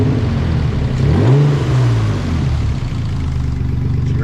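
A Nissan 300ZX engine revs up once, rising in pitch and then settling back to a steady idle, close and fairly loud with no talking.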